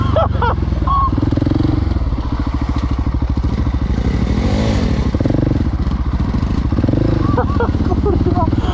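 A luxury chopper motorcycle's engine runs steadily, with a dense, throbbing low rumble that holds close and loud throughout, while people talk and laugh over it.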